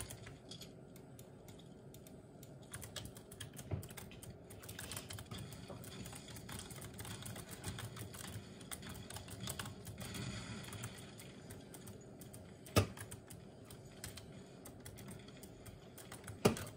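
Steady typing on a computer keyboard during a Fortnite session, rapid clicking keystrokes running throughout at a faint, close level, with a couple of sharper key hits near the end and no voices.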